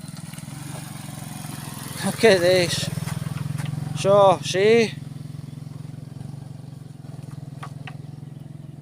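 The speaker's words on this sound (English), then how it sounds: "I'll actually show you when this motorbike's gone past." A motorbike rumbles past on a road near a river, its low engine drone steady throughout while someone talks briefly over it.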